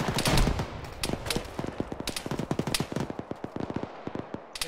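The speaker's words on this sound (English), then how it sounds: "I got a frag going out into the field." A frag grenade goes off in the Arma military shooter, followed by a dense run of sharp, cracking gunfire bursts and pops that keep up a rapid, irregular rhythm, loud at first and steadily firing afterward.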